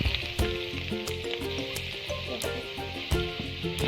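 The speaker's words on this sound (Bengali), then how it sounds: "এই আলু আর গাজরটা আগে আমরা একটু ফ্রাই করে নেব" Potatoes and carrots fry in a pan for vermicelli upma, a moderate sizzle and crackle with a few sharp spatula knocks against the pan and some tonal background hum; nobody talks.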